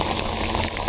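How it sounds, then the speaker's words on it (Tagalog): Heavy rain pours down in a brief, loud, dense hiss of drops striking surfaces, with no voices. "Heavy rain."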